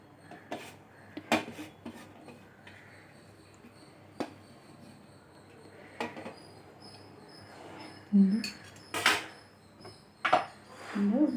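Ground lentil paste with onion, grated coconut and salt is mixed by hand in a vessel, giving sparse soft clicks and knocks, then louder squishy rubbing bursts near the end in a quiet room.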